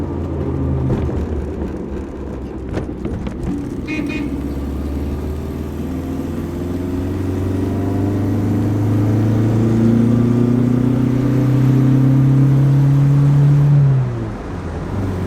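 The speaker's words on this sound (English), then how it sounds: "now we're doing 90 miles an hour in a 1964 4-cylinder Fintail" A 1964 Mercedes four-cylinder Fintail cruises at about 90 mph, its engine drone rising steadily in pitch under wind and road roar, loud and close, then cutting off near the end.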